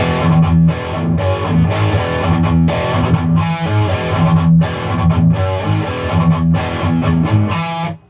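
Distorted electric guitar plays a riff at a slow tempo, chunky chords with rhythmic stops and changes, loud and close with no voice.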